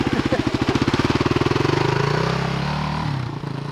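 A motorcycle engine putters in a rapid, even thumping beat that quickens and smooths into a steadier drone as the bike pulls away, fairly close and heard alone.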